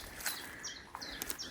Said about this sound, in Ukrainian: Спів птахів зачаровує.